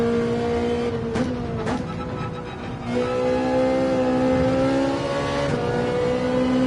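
A Ferrari race car engine in Gran Turismo 7 drones steadily at Watkins Glen, with a few quick gear-shift blips early on and then a sustained high rev; loud and continuous, no talking.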